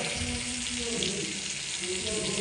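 Pointed gourd frying with black cumin in a pan gives a steady, close sizzle that runs unbroken throughout, with faint kitchen clatter and a low hum beneath it.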